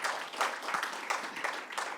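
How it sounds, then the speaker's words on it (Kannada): Audience applause at a book release event, a continuous patter of many hands clapping at moderate level, fairly distant and even throughout. "ಅವರೆಲ್ಲರಿಗೂ ಒಂದು ಚಪ್ಪಾಳೆ ಹೊಡೆಯೋಣವಾ?"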